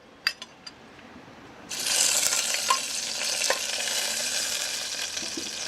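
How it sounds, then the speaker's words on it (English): Chopped onions dropped into heated oil in a kitchen pot for fisherman soup: a few light clinks, then a sudden loud sizzle that keeps frying steadily with scattered scraping and stirring noises. "now you can see the oil is heated, and then you have to introduce your onions now"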